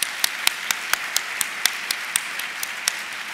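Audience applause for Kevin and Rich at the opening session of a healthcare leadership congress, a steady bed of clapping with sharp, evenly spaced claps from one nearby person standing out.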